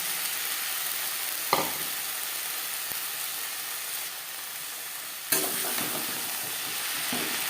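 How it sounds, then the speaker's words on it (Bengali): Chopped okra with mashed tomato and spices fries in a pan for a vegetarian bhindi curry, giving a steady close sizzle broken by a couple of sharp stirring scrapes. "মশলার সাথে ভেন্ডি বেশ ভালো করে মিক্স করে দেবো।"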